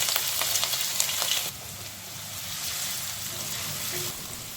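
Chopped ginger, garlic and green chili hit hot oil in a pan while making chilli soya chunks, giving a steady, close hiss and crackle that drops to a quieter sizzle partway through.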